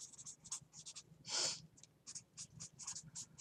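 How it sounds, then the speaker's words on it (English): A pen scratches across paper as notes are jotted, soft close scribbling strokes in quick irregular bursts over faint room hiss. "I just got to write this down right now."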